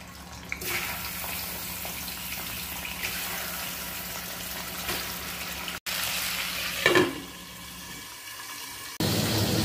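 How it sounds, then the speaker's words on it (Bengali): Small pond fish (young rohu) fry in hot oil with a steady, even sizzle, broken by a couple of brief clatters and a louder surge of crackling near the end. "মাছগুলো ভেজে নেব।"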